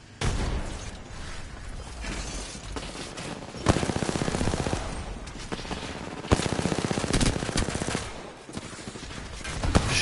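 Gunfire in Apex Legends, loud rapid automatic bursts repeating through the clip over a busy battle soundscape, with sharp louder volleys at intervals.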